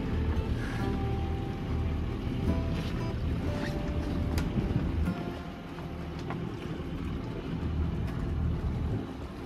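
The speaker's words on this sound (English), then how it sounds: "Sailing downwind, we're not going very fast." A sailboat running slowly downwind on open water, with steady broadband wind and water wash over the hull throughout, a few faint creaks and knocks on top, and no talk.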